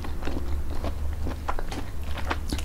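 Crunchy chewing of boiled mushrooms, including sweet bee mushrooms, eaten with khanom jeen rice noodles; repeated close bites and crunches in an uneven rhythm over a steady low background hum, with no talking.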